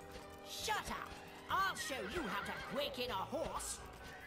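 A horse neighs in the video game Dragon Quest VIII, giving several shrill, shaky whinnies in bursts with soft hoof clops, while voices talk over it.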